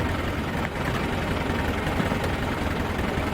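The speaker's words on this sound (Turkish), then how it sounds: "traktör aralarından geçiyor" A tractor engine rumbles steadily and fairly loudly as it drives slowly through a crowd of walking people, a constant low drone with no talk.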